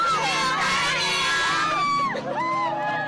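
A television talent show audience cheers, whoops and shouts loudly as a contestant leaves the stage, with a dense crowd roar and some music underneath throughout.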